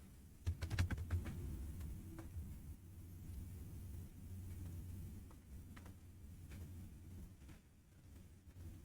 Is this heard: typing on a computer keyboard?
yes